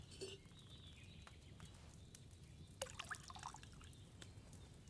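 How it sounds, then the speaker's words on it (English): Wine is poured into a cauldron in the video game Kingdom Come 2, heard as faint drips and a brief trickle over a quiet ambient bed with a few soft clicks. "So, what did you pour in there? Wine, of course."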